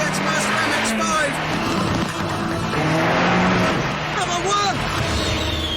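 A Mazda MX-5 sports car races hard around a track, engine loud and continuous with rising and falling revs and gear changes, nearby voices talking over it.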